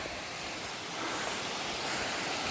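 A creek flows through a forest clearing in Andover, New Hampshire, giving a soft, steady wash of running water that swells slightly partway through.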